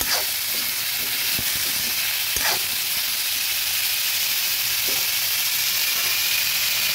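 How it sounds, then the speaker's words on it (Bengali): Potatoes fry in oil for a vegetarian squash dish, giving a steady close sizzle with a few scattered knocks and stirring sounds, no talking. "এখানে আলুটা ভেজে নিচ্ছি।"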